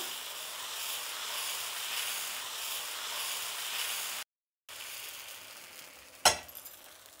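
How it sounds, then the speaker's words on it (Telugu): Masala karam dosa sizzling steadily on a hot griddle, a continuous broadband hiss broken by a brief dropout and then a sharp crackling burst near the end, with no talk. "అదేనండి మసాలా కారం దోశ వేస్తున్నాను"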